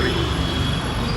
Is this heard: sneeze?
no